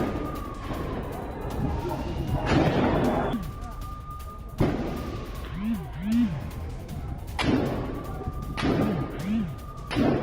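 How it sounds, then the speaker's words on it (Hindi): Gunfire during an Israeli Defense Forces operation in the Jenin camp in the West Bank, loud sharp cracks and bangs at intervals with echoing tails, along with a wailing siren-like tone and raised voices in the background. "जेनिन कैंप में आईडीएफ की गोलीबारी, कई लोगों के घायल होने की खबर सामने आ रही है।"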